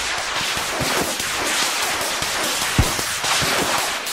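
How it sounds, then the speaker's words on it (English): A BTR armored vehicle fires its guns in the video game Squad on the Yehorivka map: dense, loud, continuous bursts of gunfire with one sharp, heavy bang partway through. "the BTR is shooting at us"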